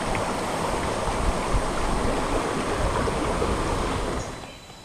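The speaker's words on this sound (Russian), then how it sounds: "Вот такой вот водопад в сезон засухи." Khao Sok National Park waterfall in Thailand's dry season: a steady, broadband rush of falling water, close and continuous, fading slightly at the end, with no voices.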